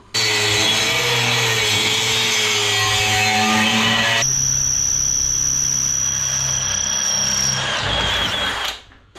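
An angle grinder cuts steel on an 1980s Honda Big Red, its motor whining loudly and continuously at a steady high pitch, then shifting tone midway before winding down.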